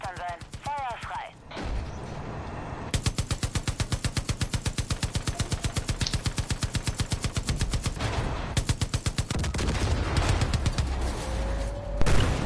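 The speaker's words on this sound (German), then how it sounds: "Mein Dad hat Kanonen in dieses Ding eingebaut." In the Far Cry 5 video game, guns mounted on a vehicle fire in long, rapid bursts of evenly spaced shots, loud and close. Engine noise runs underneath, and a voice speaks at moments.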